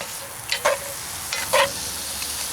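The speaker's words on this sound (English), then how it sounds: "Stir that all around." Grated carrot, diced onion, celery and salt pork stirred in a Dutch oven at a campsite: two quick scraping stirs through a soft steady sizzle, close by and with no talking.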